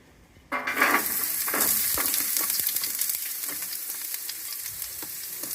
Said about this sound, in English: Fantastic sizzle there